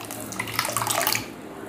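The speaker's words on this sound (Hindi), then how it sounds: "तो यहाँ पे हम पानी डाल लेते हैं" Water is poured from a vessel into semolina in a pot while making idli, a steady, close splashing pour lasting about a second before easing off.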